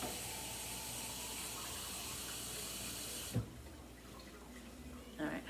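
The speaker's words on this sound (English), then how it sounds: "I have to add a little bit of water, just a little bit, to that" Water being poured into a pot of already boiling water on a home kitchen stove, a steady rushing flow for about three seconds that then stops, leaving quieter bubbling and faint handling noises.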